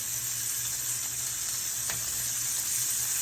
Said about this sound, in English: I'm just putting a nice sear on it